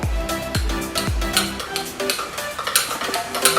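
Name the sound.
stirring banana sample and detergent with a stirring rod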